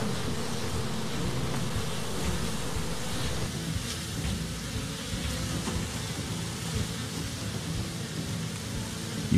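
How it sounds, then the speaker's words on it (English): A honey bee swarm taking flight makes a dense, continuous buzzing drone that fills the air, steady and loud throughout with no voices. "doing it this way will make most of the bees take flight"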